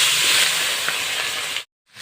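Marinated puti fish hits hot oil in a wok, giving a loud, steady hiss and sizzle up close that cuts off abruptly before a brief resumption.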